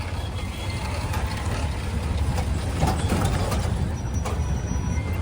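Dense road traffic outside Gomti Nagar Railway Station in Lucknow, a constant mix of engines, idling trucks, buses and cars with a few passing horn-like accents, loud and continuous throughout.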